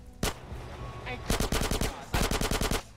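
MP5 submachine gun fire in GTA San Andreas: one sharp shot, then two rapid bursts of about eight loud, close rounds each, separated by a short pause, with no voice.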